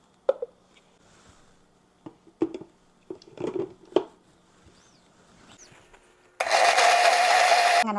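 A mixer grinder loaded with grated coconut and two cardamom pods starts up after a few scattered clunks and taps, then runs as a loud, steady whirring grind for the last couple of seconds, close by and without speech.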